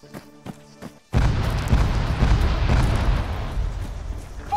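A large explosion erupts in the military video game Arma 3 after a second of quiet, a heavy booming blast followed by a long rumbling roar that fades slowly.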